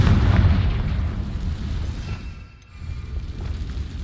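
Deep rumbling blast of a Confringo fire spell in the Hogwarts Legacy game, a sustained booming roar that dips briefly and then swells again, with no voices.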